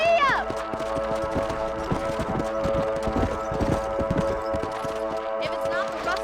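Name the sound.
horse galloping in video game Red Dead Redemption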